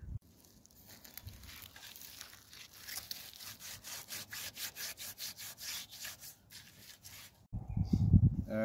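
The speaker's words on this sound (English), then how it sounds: "I have done the scouring now. This is Nature's scouring, or scrub" A pan being scoured by hand with wood ash and water, giving a steady rhythmic rasping scrub of even strokes, close and alone, ending in a louder clattering knock.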